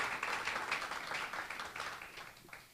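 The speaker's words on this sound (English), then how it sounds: "One big applause for all of the Students of the Month recipients." A school audience at a fall student celebration ceremony applauds award recipients, a steady, fairly faint wash of many hands clapping that tapers off toward the end.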